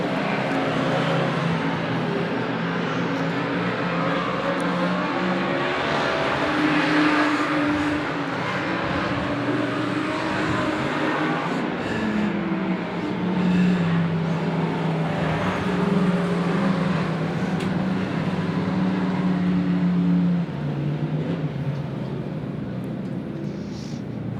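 Several race cars lap a track at a night race meeting, their engines making a loud, continuous roar that swells and fades as the cars pass, with no talk over it.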